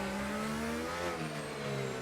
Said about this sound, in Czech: Auto tady dovážím přes tu prostřední sekci téhle tratě.